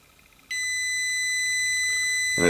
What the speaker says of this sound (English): a long beep says, okay, I'm over, I've done it